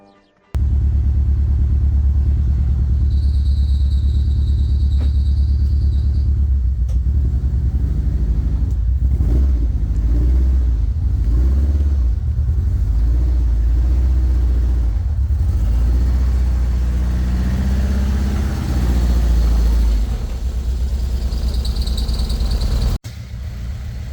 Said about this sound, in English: Car all running, perfect, lovely.